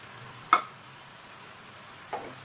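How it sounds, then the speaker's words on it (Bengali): Chicken tandoori leg pieces fry slowly in a pan on a gas stove, a faint low sizzle broken by two short scraping turns of the pieces, no voices. "লেগ পিসগুলো আস্তে আস্তে এই পাশ ওপাশ উল্টে উল্টে ভাজতে হবে"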